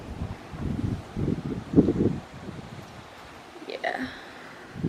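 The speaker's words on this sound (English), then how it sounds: "it's really freaking windy" Strong Hurricane Sally winds buffet the microphone outdoors near jet skis, gusting in low rumbling bursts while people talk over it.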